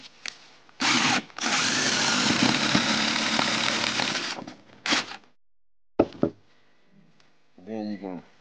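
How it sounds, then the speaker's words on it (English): A power drill whirs in short bursts and one long steady run, drilling a pilot hole in a fiberglass door panel of a 1996 Chevy Impala or Caprice, then stops; a few knocks and brief clatter follow, with a voice near the end. "get you a drill and just drill your pilot hole."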